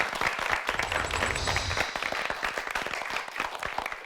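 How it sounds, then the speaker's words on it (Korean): Studio audience at a televised Korean high school debate championship breaks into sustained applause, a dense steady patter of many hands clapping at close range with no speech over it. "감사의 박수, 응원의 박수, 격려의 박수 부탁드리겠습니다."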